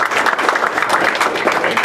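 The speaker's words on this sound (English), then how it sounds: "Let's give Jeff a round of applause for" An audience claps after a speaker is introduced at a technical presentation, a steady dense patter of many hands that holds even and fairly loud for the whole stretch, with no voices over it.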